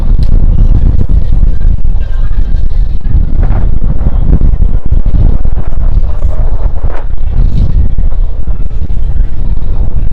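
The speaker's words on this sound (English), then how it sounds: "There's going to be some wind at the broadcast today." Wind buffets a broadcast microphone at an outdoor women's college lacrosse game, loud rumbling gusts that roar continuously and close with low booming thumps throughout.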